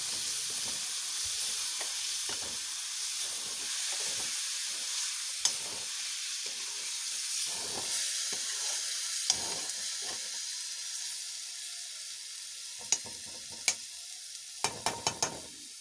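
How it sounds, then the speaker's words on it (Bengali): Boiled bean seeds and mushrooms frying and being stirred in a pan, a low continuous sizzle broken by frequent soft scraping strokes, with a quick burst of sharp clicks near the end; close, no voices. "এভাবে আমি একটু এগুলিকে ভালোভাবে কষিয়ে নেব।"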